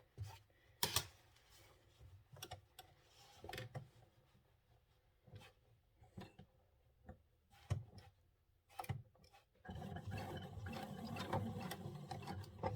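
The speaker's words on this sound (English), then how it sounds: "we can stitch in the ditch on the sides and the top" A sewing machine stitches in the ditch along the sides and top of a welt pocket on a hoodie, quiet scattered clicks and knocks, then a brief steady run of stitching at the end.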